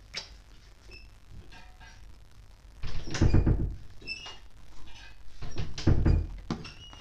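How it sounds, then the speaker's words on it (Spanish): A door swings shut with a couple of dull thunks and faint squeaks, close by in a room, with light background noise. "Cerrame la puerta."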